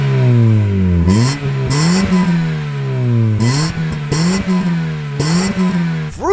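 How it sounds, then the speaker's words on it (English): Toyota Starlet Glanza S with an HKS panel filter doing a few sharp exhaust revs, each quick blip rising and falling over a close, loud idle, with pops and crackle between. "Just going to do a couple of cheeky exhaust revs so you guys can hear what she sounds like."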